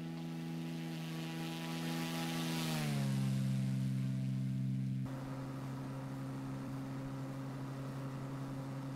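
A Cessna Cardinal C177 in the X-Plane flight simulator makes a steady propeller engine drone that rises and then drops in pitch as it passes, with a constant hum continuing afterward.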